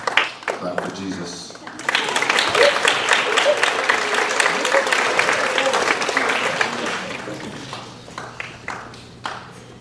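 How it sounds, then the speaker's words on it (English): A church congregation breaks into loud, sustained applause after a short pause, dense clapping filling the room before tapering off, with a voice speaking over the start. "Clap for Jesus."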